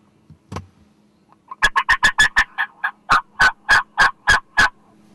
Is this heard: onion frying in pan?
no